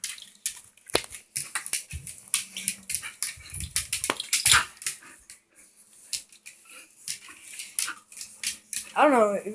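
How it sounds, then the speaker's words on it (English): A dog growling and grunting in bursts while tugging on a toy in a game of tug of war, up close, with people talking and laughing over the play. "Probably Tug of War with Dog, Part 1."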